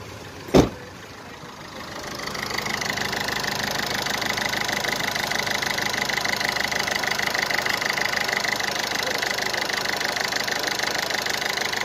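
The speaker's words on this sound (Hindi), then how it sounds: "गाड़ी मिसिंग कर रही है ज़्यादा" A 2012 Ford Figo diesel engine idling close up with a misfire, a steady rough knocking chug after a sharp bump at the start, with no talk.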